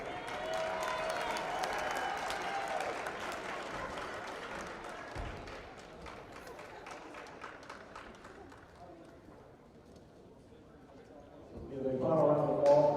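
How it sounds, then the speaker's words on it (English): A crowd in a high school gym applauds varsity basketball seniors, the clapping fairly full at first and then thinning to a low murmur, before a loud voice over the speakers cuts in at the close. "Give a final round of applause for our 2021 seniors"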